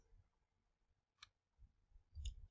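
Computer mouse clicks in a web browser, two or three sharp, faint ticks spaced apart in a quiet room with low background rumble.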